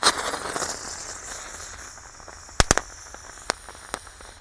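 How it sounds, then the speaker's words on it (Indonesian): A jumbo spinning firecracker (Gangsing Jumbo Pretek) is lit outdoors at night. It gives a continuous fizzing, crackling hiss, followed by a few sharp, loud pops spaced irregularly near the end. "yang pertama kita nyalakan Gangsing Jumbo Pretek guys"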